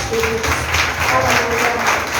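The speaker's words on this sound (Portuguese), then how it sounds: "Aplauda o Senhor porque Ele merece." Church congregation applauding at an evening inner-healing seminar service, a dense, steady wash of clapping throughout, with faint voices mixed in.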